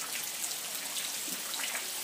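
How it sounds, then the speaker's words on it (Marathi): Steady rain falls outside a home in a broad, even hiss of drops, close and continuous with no voices over it. "पाऊस परत चालू झाला आहे"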